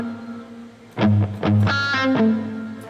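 Palm-muted electric guitar with distortion and effects, plucked in short chugging notes followed by a brighter sustained phrase, loud and up close with no speech.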